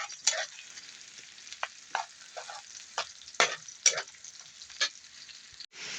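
Chicken tinola with chicken and sayote cooks in a pot, giving a soft, steady sizzle broken by irregular scraping and clinking as the ladle stirs it.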